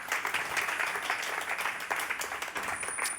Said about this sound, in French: Est-ce qu'on peut applaudir Alex?